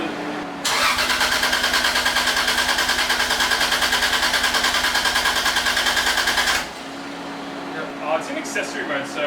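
A Toyota Chaser JZX100 with a big single turbo cranks for about six seconds, a loud, rapid, even starter chug, then stops and falls back to a quieter hum, with people talking nearby.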